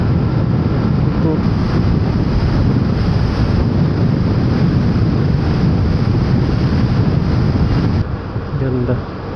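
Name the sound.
strong wind while riding a Vespa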